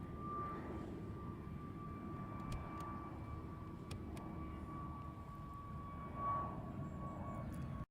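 A jet airliner departing Heathrow's runway 09R, a steady broad roar with a faint high whine, continuous and moderately distant, swelling slightly near the end, with no talking.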